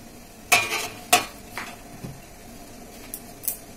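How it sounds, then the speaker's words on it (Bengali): Rasgullas in boiling date-palm jaggery syrup are stirred gently, giving a few sharp metal spoon clinks against the pot over a soft bubbling background. "ধীরে ধীরে আমি এইভাবে রসগোল্লাগুলোকে এইভাবে আমি নেড়ে দেব"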